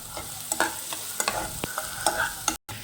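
Onion sautés in hot oil for masala Maggi, a close, continuous sizzle with a few sharp spatula taps and scrapes across a short stretch.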